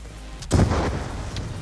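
An explosion goes off in the Call of Duty: Black Ops 2 video game, one sudden deep boom with a rumbling tail, close and loud over a steady game background.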